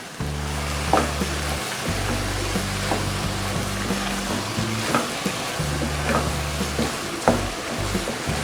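Beef keema stirred with red chili, turmeric and salt in a frying pan, a steady loud sizzle broken by periodic scraping strokes of the spoon.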